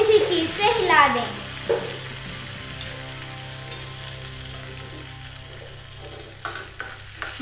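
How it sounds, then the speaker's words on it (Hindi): Cumin seeds hit hot oil over a low gas flame and crackle into a loud, steady sizzle that carries through the whole stretch, with occasional stirring clatter near the start and toward the end. "तेल में बबल्स फॉर्म हो रहे हैं। तो इसी के साथ में अब हम डाल देते हैं इसमें एक चम्मच जीरा"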